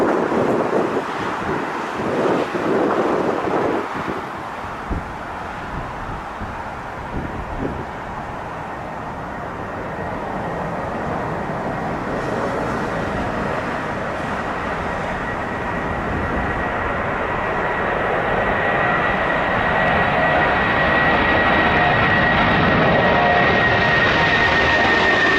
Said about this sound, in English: the British Airways 747 maintained a crab angle through the takeoff roll